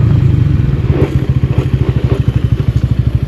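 A Bajaj Pulsar N160 motorcycle engine drones loudly and close while riding, a rapid regular low thumping pulse that holds steady with slight rises in pace, no talk.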